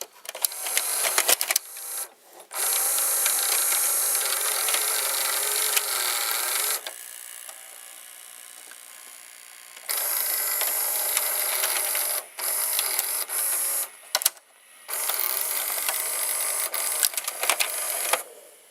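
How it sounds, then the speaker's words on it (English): Sharp VCR loading motor grinding as it loads a tape after a belt replacement, a loud, harsh mechanical rasp running in long bursts with brief pauses between them, no talking. "the loading motor started to do some grinding sounds when loading"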